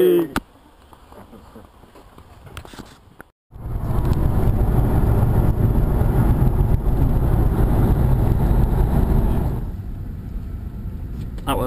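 A car pulls off and drives a lap near the gateway to Wales, its engine a loud, steady rumble that holds for several seconds before easing away, after a quiet, near-silent stretch at the start.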